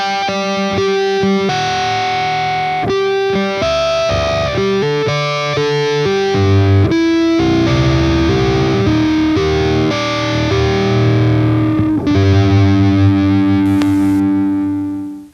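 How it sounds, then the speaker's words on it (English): Electric guitar played high up the neck through distortion and effects, giving a synth-like tone with clashing, rubbing harmonics; a steady, loud run of sustained and shifting notes with no talking. "it has this very interesting synthy sound with these really crazy harmonics rubbing together"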